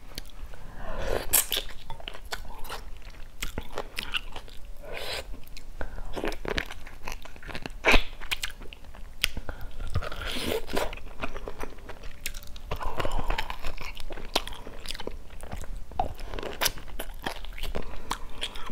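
Beef rib bones crunch and crack under repeated bites while someone eats a large bowl of bún bò with oversized ribs, close and irregular chewing and biting sounds throughout, no talking.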